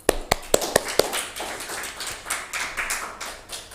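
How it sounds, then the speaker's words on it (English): A conference audience applauds after a session, opening with several sharp, close claps and then settling into a steady wash of clapping. "Please give again a big applause."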